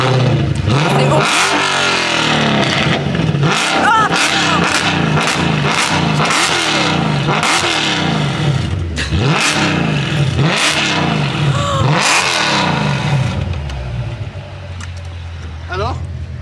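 An AMG car engine revs hard repeatedly, each rev rising and falling in loud roaring bursts, close by, then settling to a lower rumble at the end.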